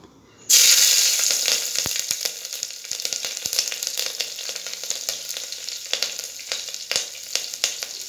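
Five green chillies hit a spoonful of hot oil with a sudden loud sizzle that keeps up as a steady crackling fry, broken by sharp pops and light stirring clicks, with no talking.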